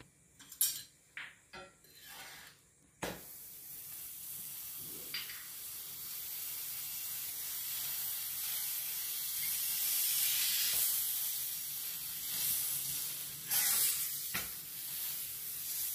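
Butter sizzles and hisses steadily in a hot pan under an aloo paratha, a broad frying crackle that swells after a few brief clinks and taps at the start, with no talking.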